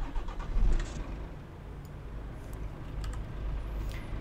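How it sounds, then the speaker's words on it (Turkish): A heavy 8x4 truck engine starting in the Truckers of Europe driving game, a low rumbling crank that catches and settles into a steady mid-pitched idle, close and fairly loud with no talk over it. "Şöyle motorumuzu çalıştıralım."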